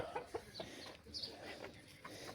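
Chickens clucking as they wander about, short clucks and calls scattered irregularly, fairly close but quiet, over faint outdoor background noise.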